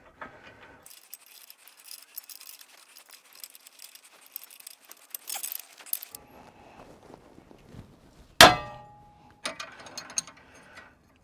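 A tie rod tool works on a car's tie rod end while breaking its taper, with quiet ratcheting clicks and metallic fiddling, then one loud, sharp metallic crack as the taper lets go, followed by lighter clinks.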